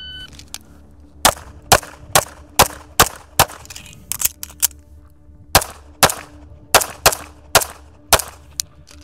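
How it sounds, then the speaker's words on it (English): Atlas Apollo pistol fired in a drill with a reload, loud sharp shots in quick pairs and triples, a short pause in the middle, then more rapid shots, close and alone. "I like shooting on the move, so let's go ahead and run this three, three,"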